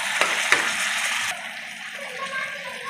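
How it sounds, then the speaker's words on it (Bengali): Ground spices of chili, turmeric, cumin and coriander are fried and stirred in oil for a Bengali mutton curry, giving a loud close sizzle with a couple of scraping knocks before the hiss drops to a quieter simmer. "এবার ভালো করে মশলাগুলো পিষে নেবো যতক্ষণ না তেল ছাড়ে মশলা থেকে"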